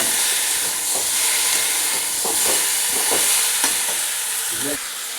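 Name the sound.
meat sautéing in a pan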